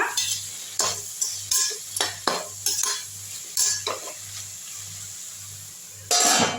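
Vegetables sizzling in a heavy-bottomed pan while being sautéed, with a spoon scraping and stirring in repeated short strokes over a steady rhythmic low hum, all close by.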